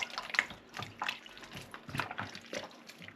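Water splashing and trickling over homemade butter made from deli-bought clotted cream as it is washed, a close run of uneven sloshes and drips with no talk.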